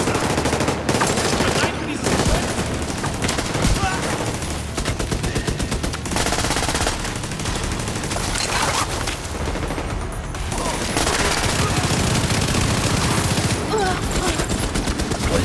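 Sustained automatic gunfire in the shooter game Division 2: Warlords of New York, with dense overlapping bursts and volleys filling the whole stretch, loud and continuous, with occasional talk faintly underneath.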